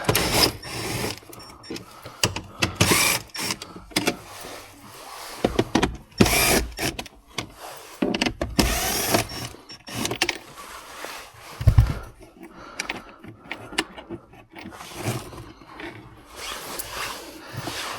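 Screws come undone on Vauxhall Astra interior trim, with irregular bursts of ratcheting, whirring and clicking from a tool, close and varying in loudness.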